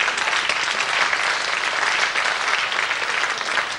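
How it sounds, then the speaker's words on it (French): Dense, even applause rises from a live audience at a French comedy-magic show, a steady wash of many hands clapping at moderate volume without pause. "On peut les applaudir quand même."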